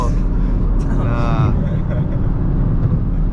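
A BMW G80 M3 pulls hard on a night-time top speed run, a loud, dense engine roar with a rising whine partway through, heard from inside the car with voices talking over it.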